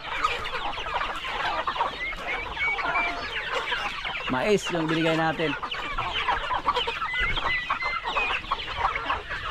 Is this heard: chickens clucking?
yes